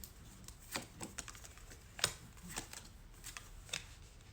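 Tarot-style cards are handled and laid out for a reading, heard as soft, faint slaps and shuffling flicks spread across a few seconds in a quiet room.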